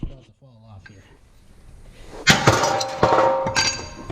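Metal strikes ring out as an old car exhaust system is hammered loose. A voice speaks first, then three or four loud, sharp clanging blows land at irregular intervals, close by and ringing.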